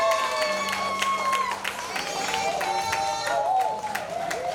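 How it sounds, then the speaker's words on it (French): Guests applauding at a 25th wedding anniversary vow renewal, steady clapping under cheering and overlapping voices, with tonal music or sung notes running through. "Applaudissez s'il vous plaît"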